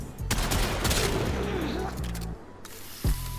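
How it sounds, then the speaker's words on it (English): Rubico Prime rifle fire in the video game Warframe: loud, dense bursts of gunshots and impacts fill the clip, with a brief lull before a final sharp shot, and a voice may be faintly present. "This really is an assault rifle."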